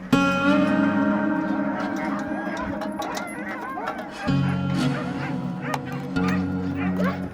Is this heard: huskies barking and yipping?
yes